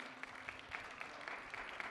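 Faint, steady applause from an audience at a memorial service as a woman walks up to the stage, with scattered sharper claps standing out over a continuous wash.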